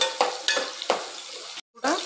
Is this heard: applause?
no